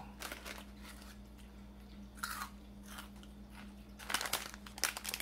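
Crisp crunching bites on fried corn snacks, a few separate crunches spaced out over a quiet background hum, close to the mic.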